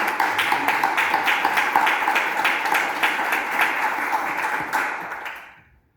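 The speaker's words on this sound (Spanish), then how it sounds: "Un aplauso." Audience applause welcoming a mayor at a presentation in Seville of a rural repopulation initiative, a dense patter of many hands clapping steadily at moderate distance before fading out near the end.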